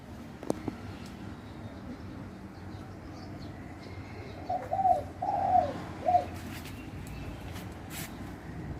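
A pet spotted dove gives a short series of soft, mellow coos midway through, moderately close but quiet over a low background hum.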